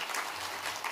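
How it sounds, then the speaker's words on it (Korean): A church congregation at a Sunday morning service claps together in a brief, dense burst of applause, heard at moderate distance in the sanctuary. "우리 하나님께 한번 영광의 박수 올려드리겠습니다."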